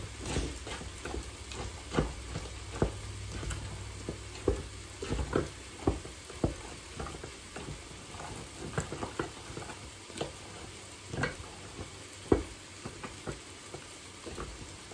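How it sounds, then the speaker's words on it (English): Meat for a cheesy chicken pot pie browns in a pan with a steady sizzle, punctuated by irregular scraping clicks of a spoon stirring it, close and moderately loud without talk. "Let me stir my meat again. I like my meat to be brown."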